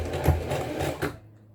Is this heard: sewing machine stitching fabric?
yes